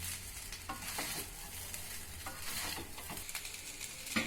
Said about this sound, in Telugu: ఈ రైస్ అంతా బాగా కలిసేలాగా కలుపుకోవాలి